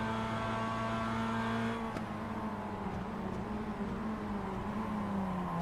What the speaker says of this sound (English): He's downshifting in all of the gears.